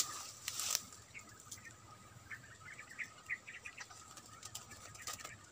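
Birds caught in a net flap their wings in short, faint bursts, with a louder flurry early on and a few scattered chirps amid quiet outdoor background.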